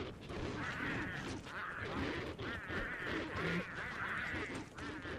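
Penguins squawk and honk in the Don't Starve: Reign of Giants video game as they are attacked, a dense, continuous run of bird cries and combat noises lasting several seconds, with no pauses.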